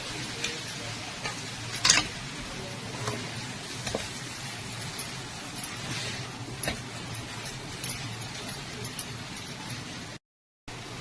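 Soy sauce and noodle sauce being stirred in a pan for street-style noodles, with faint steady sizzling, a few soft spoon clicks and scrapes against the pan, and a brief sharper clink near the start.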